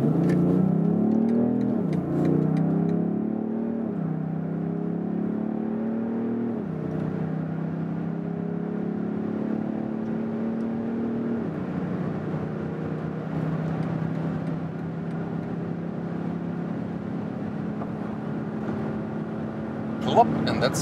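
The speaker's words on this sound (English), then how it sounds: "So sports mode, all the full 400 horsepower now, and we accelerate from about 40 kilometers an hour to whatever." A BMW X7 M50d diesel SUV with 400 horsepower accelerates hard in sports mode from about 40 km/h, its engine note rising in a steady muffled drone through several upshifts, heard from inside the cabin.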